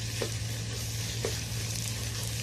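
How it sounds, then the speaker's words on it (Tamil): Ginger garlic paste sautés in hot sesame oil for mutton chukka, giving a steady, close crackling sizzle throughout, with faint stirring scrapes and no voices. "இஞ்சி பூண்டு பேஸ்ட்டை சேர்த்துட்டு நல்லா பச்சை வாசனை போகிற அளவுக்கு நல்லா வதக்கிக்கலாம்."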